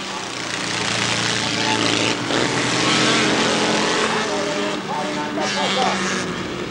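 Hot rod race cars from a 1984 All Ireland race lap the track around a tight bottom bend, a steady loud roar of engines droning throughout under continuous commentary.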